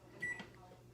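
A microwave oven's start button pressed once, giving a single short electronic beep, close and fairly quiet, with a soft low hum behind it.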